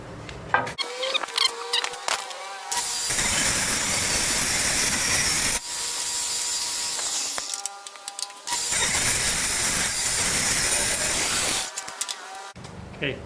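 A saw rips hardwood boards in long, loud, continuous bursts, several cuts separated by short pauses with faint talking, the blade whine steady and close throughout.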